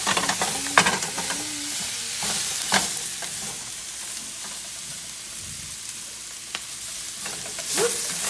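Cabbage and Brussels sprouts fry in a pan, giving a constant close sizzle with spatula stirs and scrapes and occasional sharp clicks against the pan.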